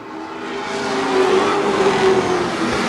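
Late model sportsman stock cars race past on an oval track with a loud, sustained engine roar that builds and holds as the pack goes by close to the listener.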